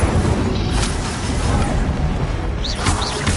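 An Incendio fire spell cast in Hogwarts Legacy gives a loud, sustained roaring blast that stays dense and steady throughout.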